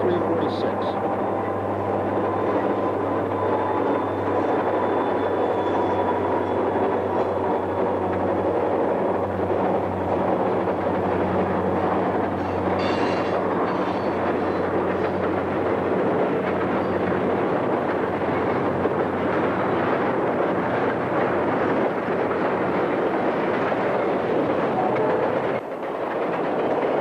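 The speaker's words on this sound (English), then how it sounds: "A westbound stock train out of Binghamton is powered by SD50 number 6700, SD40-2 number 6445, and SD40 number" Westbound freight train out of Binghamton led by an SD50, an SD40-2 and an SD40 diesel, a steady heavy rumble and drone of engines rolling past continuously, loud and close, with a faint high whine drifting over it.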